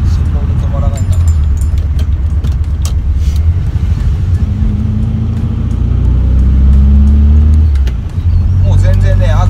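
A tuned air-cooled VW Beetle with a 2007cc engine drones steadily while driving, a loud continuous rumble with a rising tone from a gear pull midway, and someone talking over it.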